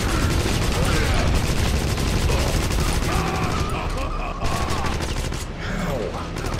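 Dense, continuous gunfire from the video game Wolfenstein, rapid overlapping shots and machine-gun bursts filling the whole span at steady loudness, with game voices and effects mixed underneath.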